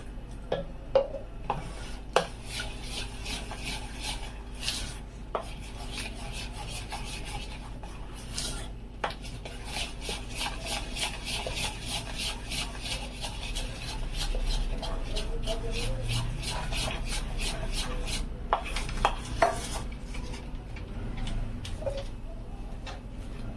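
Parle-G biscuit cake batter being stirred with milk in a bowl, a long run of rapid rhythmic scraping and tapping strokes, close and fairly quiet, with a few brief clinks.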